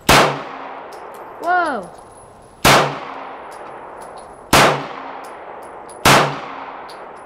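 Glock and Ruger pistol shots striking a metal target at an outdoor range, four sharp metallic clangs spaced a couple of seconds apart, each ringing briefly, with one short spoken exclamation.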